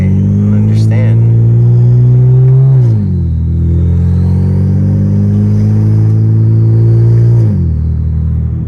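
A BMW 335i with an N54 engine and an upgraded 19T turbo, heard from inside the car, accelerating hard with a loud rising engine drone, then dropping pitch at two quick gear shifts.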